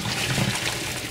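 Hot noodles and water pour into a drainer in a sink, making a steady, close rushing splash that continues for the whole moment.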